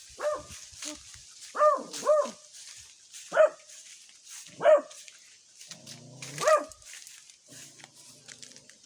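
A dog barks outside near a house, five or six loud separate barks spaced irregularly over several seconds, with quiet gaps and light background noise between them.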